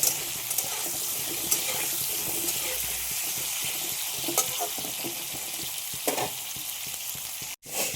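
Two bay leaves sizzling in hot oil in a pan, a bright continuous frying hiss with occasional crackles and a brief clatter near the end, close and loud with no voices.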